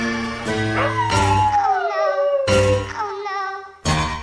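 A house dog at a front gate lets out four loud, close bursts of barking. Between them come long, wavering howls and whines that slide in pitch.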